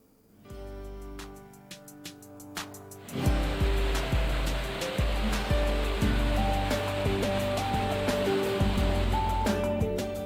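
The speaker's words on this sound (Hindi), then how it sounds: "पहाड़ियों से गिरता पानी का झरना लोगों को आकर्षित कर रहा है।" A waterfall pours off rocky hills in the rainy season, a loud continuous rush that swells after a quieter start, with music playing over it.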